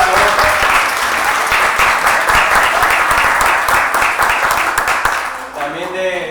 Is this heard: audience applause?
yes